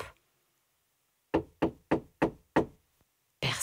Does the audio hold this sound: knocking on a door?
yes